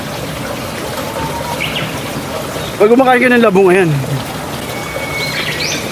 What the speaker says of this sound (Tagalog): Huni ng ibon sa ilog.